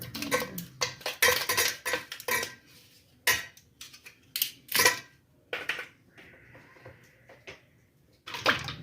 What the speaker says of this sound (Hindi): और अब इसमें शामिल करूँगी ये मैं बर्फ़ के क्यूब्स।